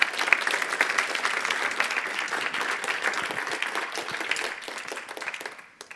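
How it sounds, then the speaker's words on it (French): Audience applauding after a French-language talk on the environmental impact of information technology: dense, sustained clapping that fades out toward the end. "Eh bien, on applaudit encore une fois Françoise."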